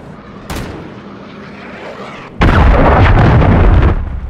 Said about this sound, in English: Hostiles launched a cruise missile.